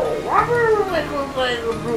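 Cat meows from a cat character in the video game Klonoa, a few rising and falling tonal cries over about two seconds, with a person talking over them.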